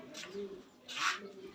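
Racing pigeons coo softly at a release and arrival site in Cebu, with two brief, faint, throaty calls close together against quiet surroundings.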